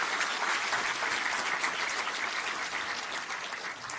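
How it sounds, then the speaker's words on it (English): An audience at a celebration at the Hindu Research Foundation claps steadily in a dense, even wash of applause that holds throughout and fades slightly at the end. "Let us have a big round of applause for these special guests."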